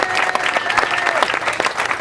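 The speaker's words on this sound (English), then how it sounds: "can the community please applaud them for all the hard work that they've done?" A community crowd at a Marlton Square press conference applauds staff, a short burst of close, brisk clapping from many hands, steady and fairly loud, with no talk over it.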